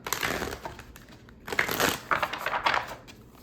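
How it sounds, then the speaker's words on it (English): Tarot cards being shuffled close up, crisp riffling and flicking bursts coming in uneven waves with short pauses. "Let me shuffle one more."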